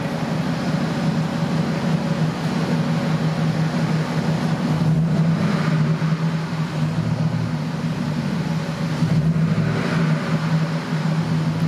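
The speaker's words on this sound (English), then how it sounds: "Let's get you to hear the exhaust around the back." Deep, steady exhaust burble from an idling restored, customized Ford F150 Triton pickup with a 4.6-litre V8, heard from the back, close and continuous, holding an even low rumble throughout.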